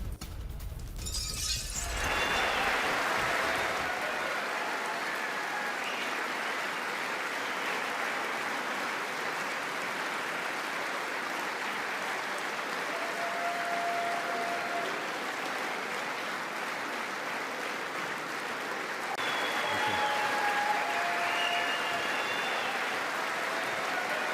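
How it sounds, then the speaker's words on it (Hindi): US lawmakers rise for a standing ovation, a broad sustained wash of applause echoing through a large chamber, steady and fairly distant, with a sharp burst at the start. "यूएस सांसदों ने खड़े होकर बजाई तालियां।"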